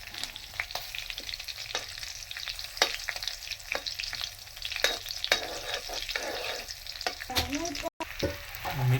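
Cumin, mustard seeds and curry leaves sizzle and crackle in hot oil for Gujarati patra, with steady frying hiss, sharp popping seed bursts and a spoon stirring near the end.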